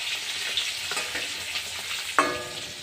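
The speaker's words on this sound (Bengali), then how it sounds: "এইভাবে আমি এবার সুন্দর করে লাল লাল করে ভেজে দেব।" Fish frying in a pan until red-brown, a steady close sizzle with faint stirring and one sharp utensil clink near the end, no voices.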